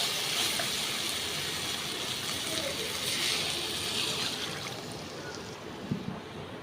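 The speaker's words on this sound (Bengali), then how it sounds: "এবার আমি জল দিয়ে দেবো।" Steady, loud broadband rush of water poured into a pan of rui fish curry after the spices are sautéed, a continuous hissing splash that tapers slightly toward the end.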